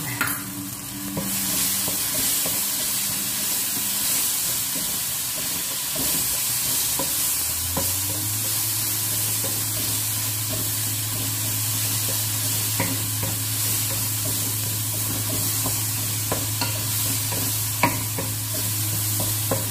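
Ingredients for a prawn and green mango curry with green chili are stirred in a pan. A utensil scrapes continuously over a steady sizzle for about twenty seconds, and no voices are heard.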